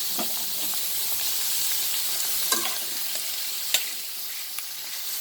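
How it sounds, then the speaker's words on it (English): Steady frying sizzle of minced chicken for chicken keema in a pan, with a few scraping stirs, close up and fairly constant; no talking. "we'll add the minced chicken so that it have little fry texture."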